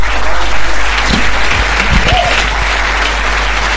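A church congregation at a conference claps loudly and continuously for the Lord, a dense sustained wash of applause with a few faint voices mixed in.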